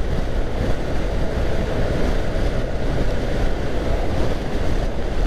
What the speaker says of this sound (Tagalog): Pinalo tayo ng hangin, no? Pagkasalubong natin yung mga truck.